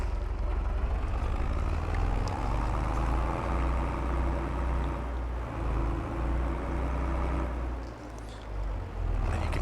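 Engine of a Fiat tractor in Farming Simulator 22, a steady low rumbling drone that holds throughout with slight dips and swells in pitch and loudness as it pulls and shifts.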